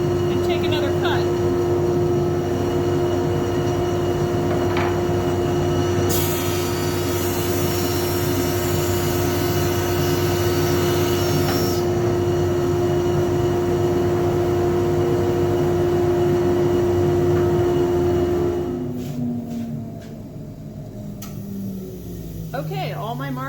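Wood planer running loud and steady as it takes a flattening cut along a board, a bright high-pitched burst of cutting in the middle of the pass, then the motor winds down near the end.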